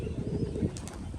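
A pigeon flaps its wings as it lands, a quick flurry of soft, close wingbeats over steady outdoor background noise.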